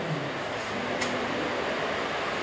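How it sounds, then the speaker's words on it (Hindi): An electric ceiling fan running fast and noisily on a hot day in a home, giving a steady broadband whir and rush that holds at an even loudness throughout, with no voices. "पंखा इतना तेज चल रहा है, कितनी आवाज़ आ रही है पंखे में"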